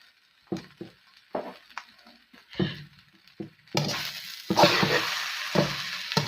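Homemade special fried rice is stirred in a hot pan: scattered scraping, clattering strokes at first, then a loud, continuous sizzle that swells up and carries on under further stirring.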